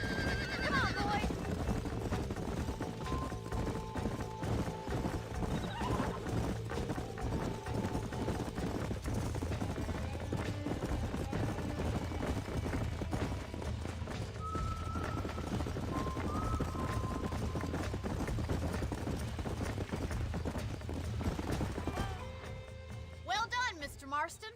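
Horses neigh and hooves clip-clop in the Red Dead Redemption video game, set against a constant bed of background music and ambience, with a few whinnies standing out. The sound cuts off abruptly near the end.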